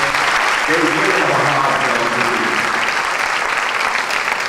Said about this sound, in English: let's give them all another great big round of applause